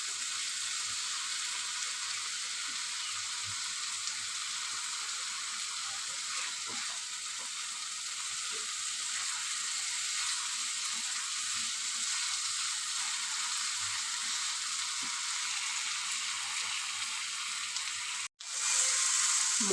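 Spice paste and potatoes sizzling as they sauté in a pan for a soybean curry, a steady broadband frying hiss held close and even throughout, with a brief dropout near the end.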